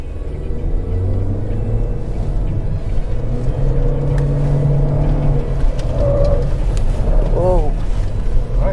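A new Honda Civic works through a slalom test at about 45 km/h, with a steady engine and road rumble under the cabin and a few rising revs as it weaves. People talk over the sound throughout.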